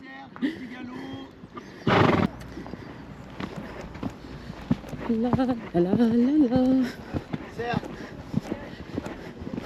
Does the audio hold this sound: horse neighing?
yes